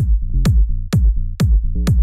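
A punchy electronic kick drum and deep bass pattern repeats in a steady minimal tech house groove, clean and dry with saturation removed, no distortion.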